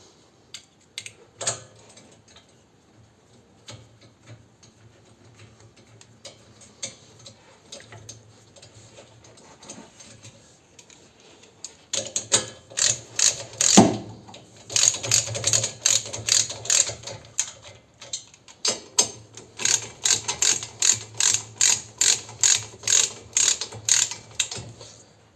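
Ratchet wrench tightening the rear brake caliper bolts on a 2018 Peugeot 5008, fast clicking pawl bursts in repeated strokes, close and loud, with quieter fiddling before the tightening starts.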